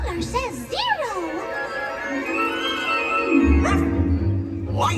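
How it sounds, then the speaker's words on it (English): A cartoon ghost dog yips and whimpers during a Disney Halloween fireworks show, giving several rising and falling high-pitched barks over show soundtrack and crowd noise. "A dog! It's a ghost dog."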